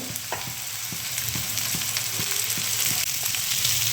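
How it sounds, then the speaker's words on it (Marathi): Stuffed ridge gourds sizzling steadily in a pan on reduced heat, a dense continuous frying hiss with regular soft clicks of stirring, close and alone. "आता यामध्ये मी आता ही घोसाळी टाकून देते"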